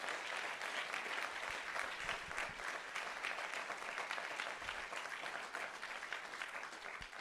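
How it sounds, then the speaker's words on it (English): A room full of people applauds after a series of presentations at a livestreamed talks event, an even, continuous wash of clapping held at moderate level for the whole stretch. "Please join me in another round of applause."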